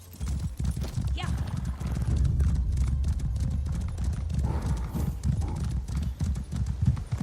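A horse gallops in Elder Scrolls Online with steady, loud clip-clop hoofbeats running throughout, and a brief neigh partway through over background game sounds.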